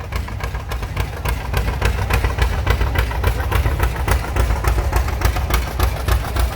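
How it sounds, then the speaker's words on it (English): A 1948 John Deere Model G antique tractor chugs past in a parade, its engine pulsing in an even, rapid beat with a deep low rumble, loud and near, with no voices over it. "a 1948 John Deere Model G, owned by Jason Redger out of Blanchester."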